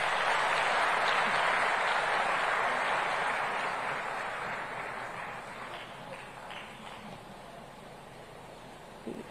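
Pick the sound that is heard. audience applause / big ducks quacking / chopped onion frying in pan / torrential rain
audience applause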